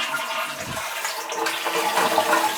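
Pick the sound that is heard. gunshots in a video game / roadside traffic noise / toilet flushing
toilet flushing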